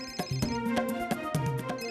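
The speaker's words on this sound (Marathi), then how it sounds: "अरे फोन तरी घेऊ द्या हात" A phone ringtone plays a repeating melodic electronic pattern, fairly clear and close, for a couple of seconds inside a home scene, with no one speaking over it.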